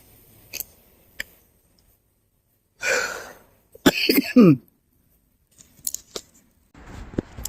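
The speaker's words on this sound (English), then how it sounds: "Sorry, I went through a coughing fit" Several harsh coughs burst out in a cluster mid-way, flanked by scattered clicks and small rustling sounds in otherwise quiet surroundings.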